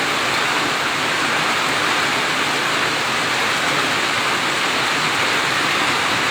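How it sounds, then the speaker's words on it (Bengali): Steady, dense night rain pours down in Naria, Shariatpur, Bangladesh, a constant loud hiss of falling water with no pauses and no voices. "এখানে বৃষ্টি হচ্ছে"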